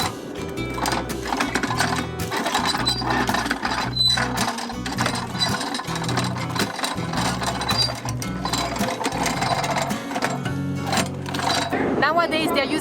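An 1891-designed coffee shelling machine at a Colombian coffee farm in Salento, separating shells from beans with a steady, rapid mechanical clatter and rhythmic thumping, as a person talks over it.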